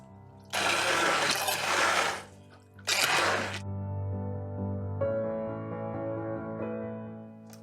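Shreds of handmade cold-process soap being crushed for embeds, two bursts of loud, close crunching and crackling, one long and one shorter, followed by a quieter mechanical hum.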